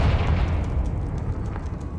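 A Confringo spell bursts in Hogwarts Legacy, a short, heavy low rumbling blast that booms loudly and fades slightly over two seconds.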